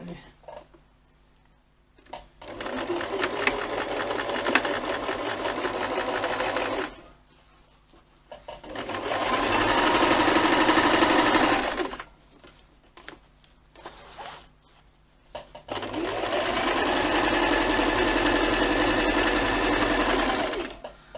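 A sewing machine stitches carry cot fabric in three long, steady whirring runs, close and loud, separated by short pauses between seams.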